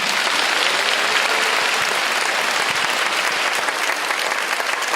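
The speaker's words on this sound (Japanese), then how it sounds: "会場の皆様、今一度大きな拍手をお願いいたします。" Lecture hall audience giving sustained, even applause after a talk, dense and continuous clapping at full volume with no voices.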